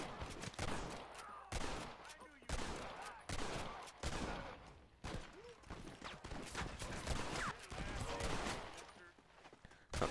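Gunfire in the Western video game Red Dead Redemption, including a Volcanic pistol, comes as repeated sharp bursts and rapid volleys at a steady loudness, with someone talking over parts of it.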